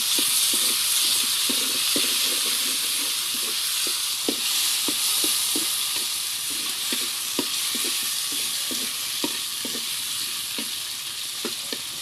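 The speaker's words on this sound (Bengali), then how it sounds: "এটাকে এখন নেড়ে চেড়ে লাল লাল করে ভেজে নিব।" Chicken pieces stirred and fried in oil, a constant hissing sizzle close up with regular scraping knocks as a spoon turns the meat, steady throughout and with no voices.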